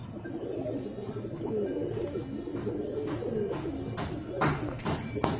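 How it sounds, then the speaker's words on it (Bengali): Several pigeons coo in low, rolling phrases throughout, including a hen with good eye quality among Andra Fulshira birds, with a few sharper rustles and flutters near the end over a steady coop background. "এটা মাদা পায়রা আছে"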